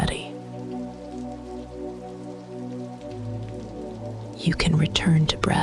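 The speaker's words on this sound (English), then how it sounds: "The rain stays steady." Rain falls steadily on glass, a soft continuous hiss with a low hum beneath, and a gentle voice comes in near the end.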